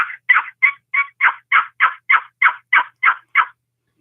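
A turkey call worked by hand imitates a loud, raspy old hen turkey, giving a steady string of about a dozen sharp, evenly spaced yelps. The yelps are close and clear, with no talk over them.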